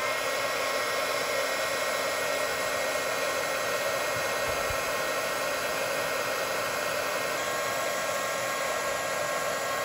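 A heat tool blows steadily to set embossing powder on a crafting project, a loud constant hot-air whir with a broad hiss that runs unbroken the whole time, heard alone.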